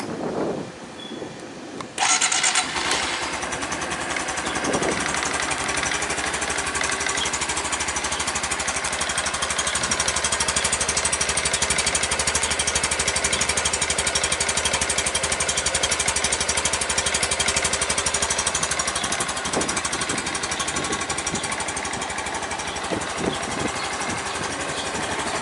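A Honda Super Cub motorcycle engine starts after a brief quiet moment, then settles into a steady, close, rapid idle that runs unbroken and even for over twenty seconds with no talking.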